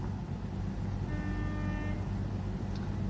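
A steady semi-truck horn blast sounds for about a second over a low, rumbling idling engine at a truck stop in Gary, Indiana, then the engine drone continues alone.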